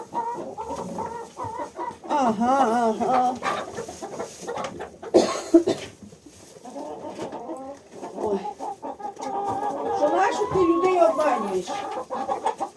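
Chickens clucking and squawking close by, a busy flock chattering nearly nonstop, with a person briefly speaking among them.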